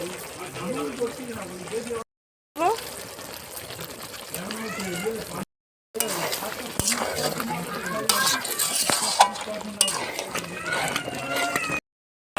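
Prawns are tossed into cabbage cooking in a pan, with continuous stirring, scraping and sizzling close up under people talking, broken by a few short gaps.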